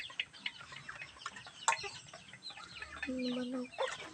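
Chickens clucking on a farm, a few short calls scattered through the clip with one sharper squawk and a drawn-out call near the end, under faint talk and background noise.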